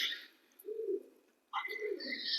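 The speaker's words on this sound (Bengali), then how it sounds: "বাবা পায়রাগুলো কি ডাকছে" Pigeons coo softly nearby in two low, rounded bursts. A faint higher chirp runs between and over them, and there are no voices.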